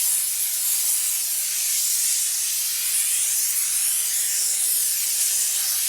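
Steam cleaner blasting a motorcycle or car wheel, a steady, loud, unbroken hiss of pressurized steam throughout with no voices.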